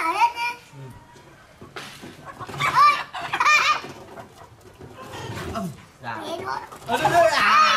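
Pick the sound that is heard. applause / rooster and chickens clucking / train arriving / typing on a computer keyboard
rooster and chickens clucking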